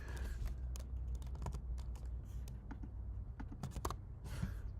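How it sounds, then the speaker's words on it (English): Rapid clicking keystrokes on a computer keyboard, close and continuous, with an uneven typing rhythm over a low steady hum and no speech. "I'm going to type it in."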